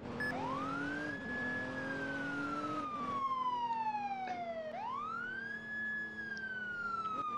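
A police car siren in the Roblox game ER:LC wails in long rising and falling sweeps, two full cycles, loud and close, with engine hum underneath and no talking.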